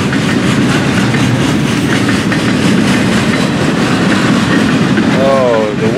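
Train rolling steadily over rails on a reworked roadbed, a loud continuous rumble with rhythmic clickety-clack, close by and filling the whole stretch.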